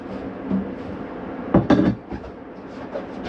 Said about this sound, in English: Lift this table up. Off there.